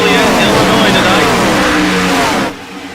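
Race cars roar past at speed on a track in the Chicagoland area near Joliet, Illinois, a loud dense wall of engine noise with rising and falling pitches that drops away abruptly near the end.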